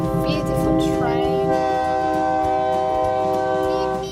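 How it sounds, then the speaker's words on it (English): A train rolls past at close range with a sustained, steady rumble and tonal rail sounds throughout, while people talk over it. "Beautiful train."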